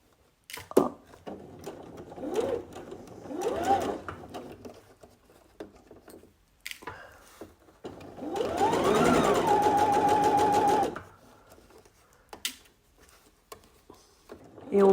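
Sewing machine stitching the edge of a V-neckline finished with an inner bias binding, whirring in short bursts and then one sustained run of several seconds, close by, with quiet handling noises in the pauses.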